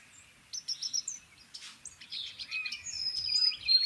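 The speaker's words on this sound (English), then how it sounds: "And in contrast to it, here's the white-throated sparrow." Recorded white-throated sparrow song: thin, high, clear whistled notes and trills, fairly faint and heard alone over quiet background with a few other distant chirps.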